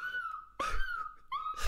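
A dog whimpers and yips in three high, wavering cries, each sliding tone broken by short pauses, close and fairly loud with no talk.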